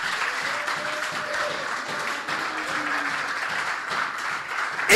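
A church congregation clapping along, moderately loud and steady, with rhythmic hand claps and faint voices underneath.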